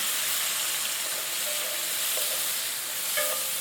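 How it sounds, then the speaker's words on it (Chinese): Giant river prawns stir-fried with minced garlic and a poured-in sauce in a hot pan, a steady close hiss of sizzling with faint spatula scrapes and small pops, no voices. "倒入刚才调好的料汁，翻炒均匀"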